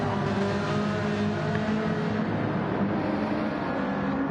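A liveried Toyota Supra Gr3 race car in a racing video game on the dry Nürburgring, its engine a steady, loud, sustained roar with no break and no voices.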